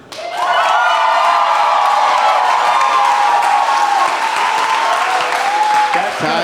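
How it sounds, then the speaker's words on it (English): A live podcast audience breaks into loud, sustained applause with some cheering, the clapping swelling quickly and holding steady. "then round of applause"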